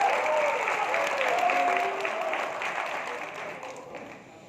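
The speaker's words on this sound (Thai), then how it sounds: "ขอเสียงปรบมือให้ทุกท่านได้เลยครับ" An audience applauds at a talk, a dense wash of clapping with some crowd voices that starts strong and gradually fades toward the end.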